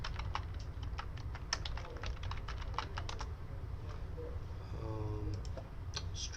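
Rapid, uneven keystrokes clatter on a computer keyboard as a new password is entered during an SAP logon, close and fairly quiet over a low steady room hum, with no talking.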